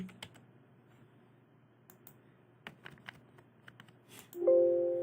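Keys tapped on a computer keyboard while typing a PHP filename, scattered quiet clicks in short bursts with pauses, faint and close, no talking.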